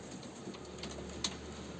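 Homing pigeons cooing softly inside their loft, faint low calls over a steady hiss of background noise, with one brief sharper sound near the end.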